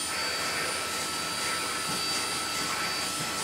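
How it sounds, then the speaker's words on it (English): A Beko VRT6221P vacuum cleaner runs steadily with its hose attachment fitted, giving a loud, even roaring whine that holds constant without pauses and has no talking over it. "and vacuum away."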